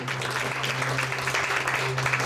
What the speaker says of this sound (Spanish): aplauso al Señor, déselo fuerte